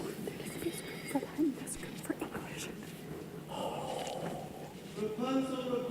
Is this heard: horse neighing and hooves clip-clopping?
yes